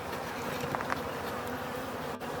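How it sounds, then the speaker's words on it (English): Honey bees buzz steadily inside a nuc box, a soft, continuous drone with a few slightly louder passes as bees move close by. "I still got a whole bunch of bees sitting in here on the wall"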